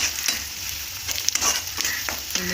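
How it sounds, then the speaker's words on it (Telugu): Green chillies frying in a hot pan with onions, a continuous sizzle broken by several scraping stirs of a spoon, close and clear, with no voices. "ఈ మిర్చి గోల్డెన్ కలర్ వచ్చే వరకు కొంచెం వేపాలి."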